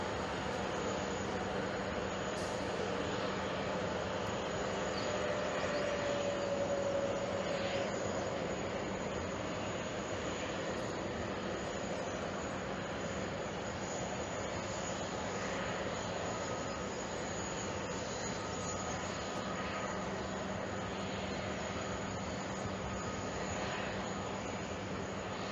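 Airplanes arriving at JFK Airport produce a continuous distant jet engine roar and rumble that hangs over the scene at a steady level, with no talking.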